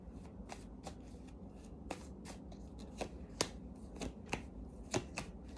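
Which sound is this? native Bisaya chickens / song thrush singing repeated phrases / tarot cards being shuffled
tarot cards being shuffled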